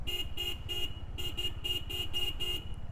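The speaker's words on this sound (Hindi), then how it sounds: "हॉर्न का आवाज़ सुनिए आप" A Honda H'ness or CB350 motorcycle horn beeps repeatedly in quick, evenly spaced short blasts, about nine in all, over a low engine hum.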